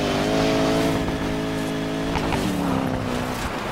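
A car engine in Need for Speed Payback revs hard while off-roading, holding a loud, steady roar with shifting pitch as the throttle changes, and no talking over it.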